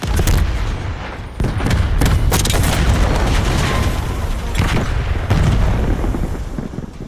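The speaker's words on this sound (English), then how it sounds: "Tossing grenade out." Frag grenade blasts and heavy gunfire thunder through a video game firefight, loud booming explosions layered with rapid shots and rumbling bursts, dense and continuous for several seconds.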